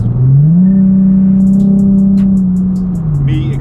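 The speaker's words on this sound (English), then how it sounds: "me accelerating like that was probably loud to y'all" A Ford Mustang with a loud aftermarket exhaust pulls hard, its engine note climbing into a steady strong drone heard from inside the car, then easing off after about three seconds.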